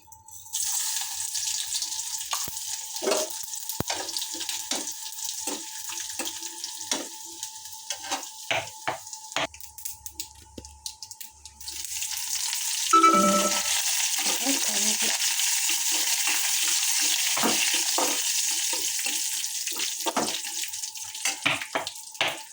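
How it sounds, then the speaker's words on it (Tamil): Mustard seeds, urad dal, dried chilli and garlic are tempered in oil: scattered taps and clinks of a spoon on the pan come first, then a loud, sustained sizzle rushes up after one sharp burst. "கடுகு, உளுந்து, காஞ்ச மிளகா, பூண்டு இது எல்லாத்தையும் எண்ணெயில் போடணும்"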